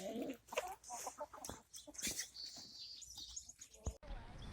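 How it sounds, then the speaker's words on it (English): A rooster on a farm, loose outside the pen, lets out repeated crowing and clucking calls, fairly close, with faint chirps from other birds around it. "And there's Roo, the rooster, who's outside."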